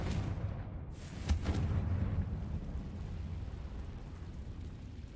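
Confringo blasting spell explosion in the video game Hogwarts Legacy, a single booming blast with a rumbling tail under steady game background noise.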